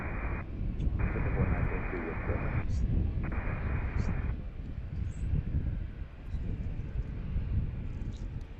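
Airplane taking off from runway 15 at Reagan National Airport (DCA), a steady broad engine roar heard from a distance, with wind buffeting the microphone throughout.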